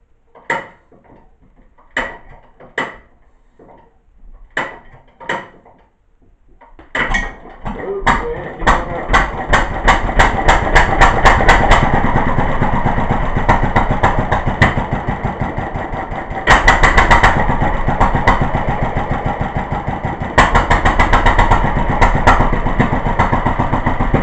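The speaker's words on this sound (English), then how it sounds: "I'm going to turn it over a couple of times just with the choke down to prime it." A 1936 International Harvester LA water-cooled stationary engine is pulled over with sharp, spaced cranking thumps, then fires and settles into a loud, rhythmic, close-up chugging run.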